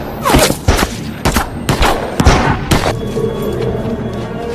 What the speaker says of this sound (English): so the snipers shot him.